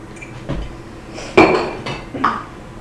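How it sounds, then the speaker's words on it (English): A spoon or whisk mixing dough in a bowl gives a few scattered clinks and knocks against the bowl, with quiet pauses between them. "Now you're going to mix it with a spoon or with your whisk that you already have."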